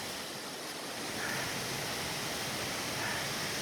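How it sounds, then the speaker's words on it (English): A small waterfall on an autumn hike, running low without heavy rain, gives a steady, moderately loud hiss of falling water with no breaks. "The waterfall is not very big because it's not heavy rain now"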